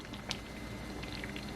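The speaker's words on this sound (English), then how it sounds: "It's boiling real nicely." Homemade jam, thickened and turned down on the stove, boils in a pot with a soft, steady bubbling and occasional small pops, close and quiet.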